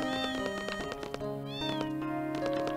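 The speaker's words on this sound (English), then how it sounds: "There's a bunch of kitties." Several cats meowing in the Final Fantasy VIII video game, a series of clear drawn-out rising and falling meows, one after another and fairly close, with no talking.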